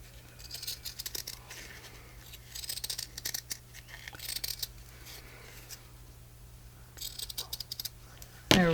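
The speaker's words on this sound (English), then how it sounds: "trim up your feather or leaf" Scissors snip through a denim feather-shaped pocket tag in several short bursts of crisp cutting, close and fairly quiet, with pauses between the cuts.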